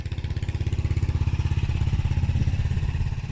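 A Suzuki GN125 motorcycle engine runs close by at an MOT test centre after a short ride, a loud, rough, rapidly pulsing single-cylinder thrum that swells slightly midway and holds steady.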